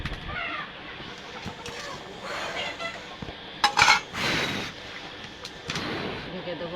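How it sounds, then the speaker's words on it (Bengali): Pieces of fried maya fish are dropped into a pan of spicy onion curry, giving a few sharp clinks and clatters against the pan amid low kitchen noise and some sizzle. "এবার এই ভেজে রাখা মাছগুলো দিয়ে দেব আমি"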